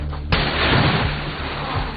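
In a disaster survival film, a single loud gunshot lands sharply after a brief quieter lead-in and then fades into a long rumbling tail and background noise.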